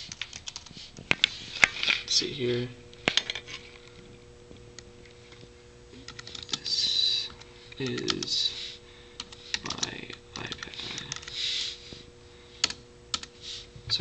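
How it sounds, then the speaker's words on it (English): Typing on an Apple Bluetooth wireless keyboard paired with an iPad, in irregular bursts of light, close clicking keystrokes, with someone speaking between the bursts. "let me go ahead and start typing for you so you can see that it works"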